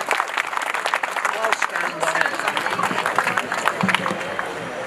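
Outdoor audience at Parliament Square in Wales applauding a speaker named Andrew, sustained clapping and scattered cheers mixed with voices talking over it.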